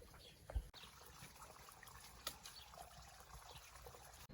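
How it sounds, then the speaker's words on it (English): Water trickles faintly and steadily from the end of a septic tank (fosse septique) pipe at a gîte renovation in France, with a soft bump near the start and no talking. "That water was there already there, and it's coming out at the end."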